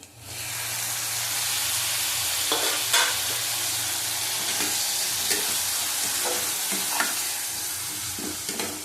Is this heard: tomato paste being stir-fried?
yes